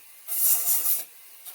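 A brief rasping rub of sandpaper along the edge of a carved wooden spirit tree, one short stroke of about three quarters of a second, close and fairly soft, followed by quiet.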